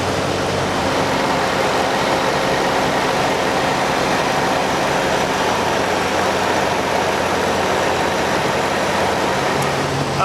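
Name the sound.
Cadillac CTS-V engine running on a dyno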